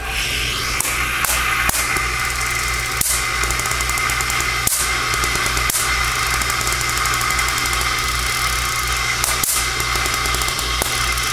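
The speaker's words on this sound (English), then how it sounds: "Here I have a Van de Graaff generator." A Van de Graaff generator runs continuously, a steady mechanical hum and whir from its motor and belt with faint sharp ticks and snaps scattered throughout.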